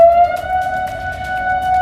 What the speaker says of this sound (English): Emergency sirens had some fearing a tsunami was headed their way.